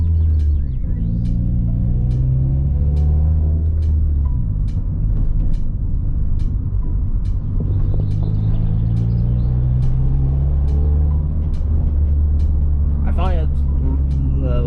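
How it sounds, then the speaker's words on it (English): Steady low Hyundai Tiburon engine rumble and road noise from inside the moving car with the sunroof open and outside air rushing in, while someone talks throughout. "I want you guys to hear the sound of the car now."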